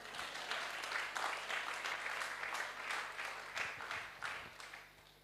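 A church congregation at a bilingual French and English service applauds together, a sustained wash of many hands clapping at moderate volume over a low electrical hum.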